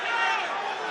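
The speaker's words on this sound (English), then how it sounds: "Listen to the crowd here, getting behind the Yorkshireman." Boxing arena crowd roaring steadily in support of a Yorkshire fighter, a dense continuous wash of cheering voices at a distance.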